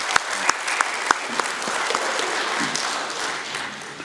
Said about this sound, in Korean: 우리 하나님께 영광의 박수 또 함께 올려드리겠습니다